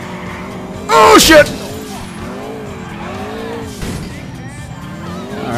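Pink Sultan RS sports car in the video game GTA IV skids with a loud, brief tire squeal, then drives on with a steady engine drone while someone talks over it.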